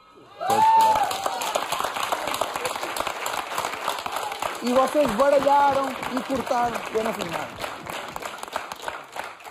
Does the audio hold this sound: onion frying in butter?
no